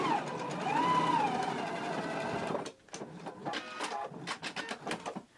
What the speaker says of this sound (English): I'm going to go ahead and stitch these down at a 5/8 inch seam allowance and finish them off with my serger